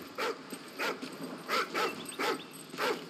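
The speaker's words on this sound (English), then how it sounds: "What's this dog up to?" A military dog in the Call of Duty: Ghosts video game gives a series of about six short, evenly spaced barks and yips, close and clear, with a faint ambient game background.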